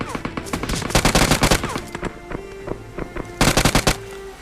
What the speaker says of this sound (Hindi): लेफ्ट से भी गोली पड़ने लगती है